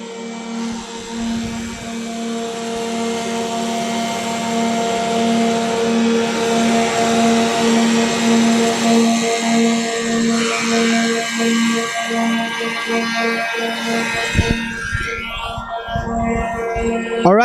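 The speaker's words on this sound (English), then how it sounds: "now all the machine is running, and he can jog the first piece through" A Weinig Profimat 50 wood moulder with its spindles spinning gives a loud, steady machine drone with strong tonal hum, holding level for most of the stretch before thinning out near the end.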